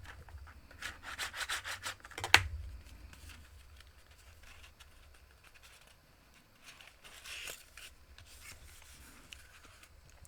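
A paper fold is burnished on a punch board, giving faint, close rubbing and scraping strokes with a sharper tap partway through and quiet pauses between passes.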